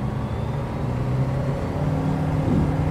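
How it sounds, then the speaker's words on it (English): Steady low hum of a light aircraft's engine in Microsoft Flight Simulator 2020, a constant droning rumble with faint tonal whine, close and unbroken, with no talking. "Listen to the hum of that engine."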